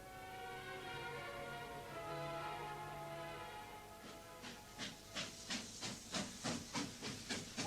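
Steady steam hiss gives way to rhythmic chuffing bursts that quicken as a steam train pulls away, fairly loud and close.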